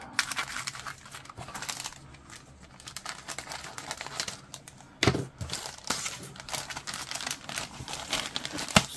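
Plastic packaging around Hobbyboss 1/48 A-10C Thunderbolt II model kit decal sheets is cut open, giving close, steady crinkling and crackling with a few sharper snips and tearing bursts throughout.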